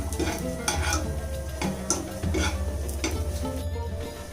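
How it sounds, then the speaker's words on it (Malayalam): Lentils being roasted in a pan with raisins added, for kaipola: steady stirring scrapes and soft sizzling with faint utensil taps against the pan, close and continuous, no talking. "പരിപ്പൊന്ന് മൂത്ത് വരുന്ന സമയത്ത് ഞാൻ അതിലേക്ക് കുറച്ച് ഉറക്ക മുന്തിരി കൂടി ചേർത്ത് കൊടുക്കുന്നുണ്ട്."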